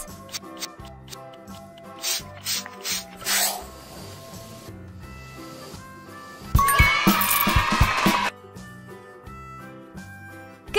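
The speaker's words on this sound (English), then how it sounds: "Let's iron the clothes!" Rasping, rubbing sound effects of ironing clothes in Sweet Baby Girl Daycare 4 over light background music, ending in a louder hissing burst like a steam spray.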